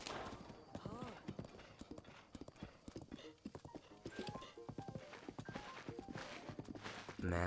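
Horse hooves walking in the video game Breath of the Wild, a steady close clip-clop of hoofbeats on the ground with occasional whinnies, continuing under a voice talking.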